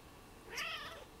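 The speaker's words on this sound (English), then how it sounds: "Do you want to meet my cat, Oscar?" A single drawn-out meow from a pet cat, close and fairly quiet, rising and falling over about half a second in an otherwise quiet room.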